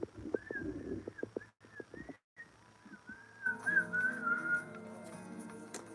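Someone whistles a wavering, warbling tune up close, with soft clicks and pauses, then a steadier sustained whistle toward the end; fairly quiet overall.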